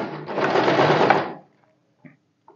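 A sewing machine stitches a sleeve onto a garment in one short, fast, close run that stops abruptly, followed by a couple of small mechanical clicks.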